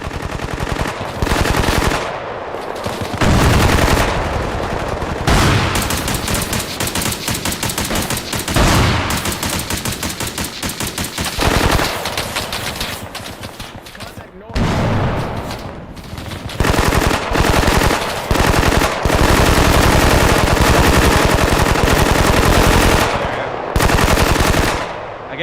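M240 machine guns fired by weapon squads in the video game Bellum, loud sustained bursts of automatic fire overlapping continuously with brief pauses, dense and close throughout.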